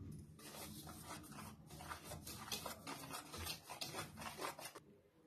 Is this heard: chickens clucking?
no